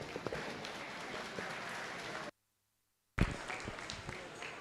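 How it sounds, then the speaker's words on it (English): A crowd at a county swine show applauds as a young exhibitor heads back to the barn; steady, dense clapping runs on, breaks off into a brief silence, then resumes. "Big round of applause for that young lady as she heads on back to the barn"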